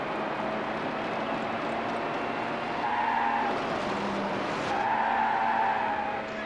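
Mercedes CL racing in Need for Speed Hot Pursuit 2, its engine droning steadily throughout, with tire skids squealing in two longer bursts midway and near the end, no voices.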